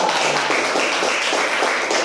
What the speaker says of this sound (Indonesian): Nah, tepuk tangan untuk Mbak Miftah.